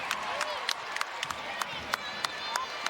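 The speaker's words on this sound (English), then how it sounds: "And this crowd is bumping." Home WNBA crowd at an Indiana Fever game against the New York Liberty fills a basketball arena with a steady wash of cheering and clapping, punctuated by sharp hand claps.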